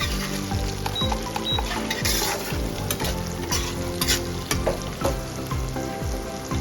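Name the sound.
chickpeas frying in a pan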